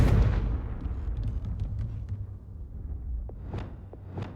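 The Confringo explosive spell in Hogwarts Legacy goes off with a loud blast that rumbles and decays over a few seconds, followed by a few fainter crackling bursts.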